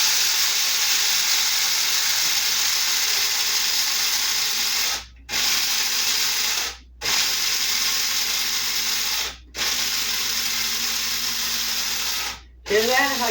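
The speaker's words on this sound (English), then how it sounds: "I don't use this coffee grinder for anything but grinding spices." A coffee grinder kept only for spices grinds in long, steady whirring bursts with short pauses between them, close and loud, during outdoor cooking at a wood-fired oven.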